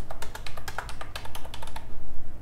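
Rapid, irregular clicks of keys being typed on a computer keyboard as a phone number is entered for a mobile payment, close and fairly loud with no talking.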